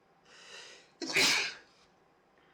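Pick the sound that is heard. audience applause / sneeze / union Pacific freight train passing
sneeze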